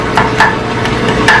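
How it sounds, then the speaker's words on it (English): A wooden spoon stirs vegetables sautéing in a Caraway non-stick pot, with soft repeated knocks and scrapes against the pan over a loud, steady sizzle and a washing machine running in the background. "I'm just going to use my wooden spoon"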